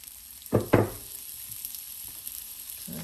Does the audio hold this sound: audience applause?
no